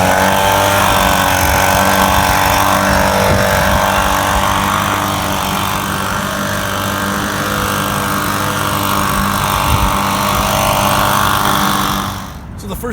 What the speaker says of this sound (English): I'm just going to start up the handheld blower, and I'm just going to give it a really quick blow